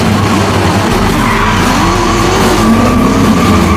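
Cars revving and skidding in an American Eagle jeans commercial, a loud continuous engine roar with tire noise that rises and falls throughout, no talking.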